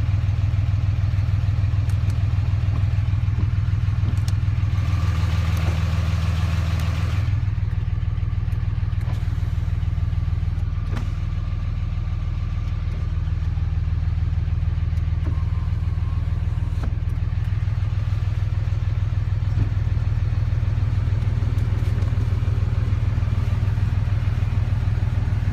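Dodge Ram 3500 dually with a 6-speed, idling steadily just after a cold start, a constant low engine rumble with light clatter throughout, close and continuous.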